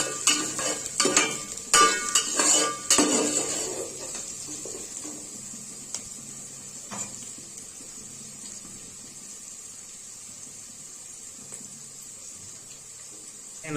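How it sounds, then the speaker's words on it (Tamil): Onions being stirred in a pan for mutton curry: a spoon scrapes and clatters against the metal in a busy burst for the first few seconds, then a soft, steady sizzle continues alone. "நல்லா கிண்டிக்கோங்க."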